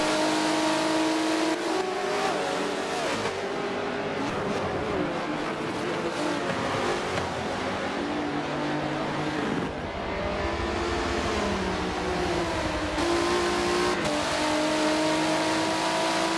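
Race car engines roar and rev continuously in an endurance GT racing game, with a Ferrari among the field, rising and falling in pitch through gear changes with brief tire squeal, loud and sustained throughout with no talk.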